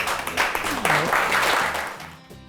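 Lecture audience applauding, a dense wash of clapping sustained for about two seconds before tapering off, with a voice faintly beneath.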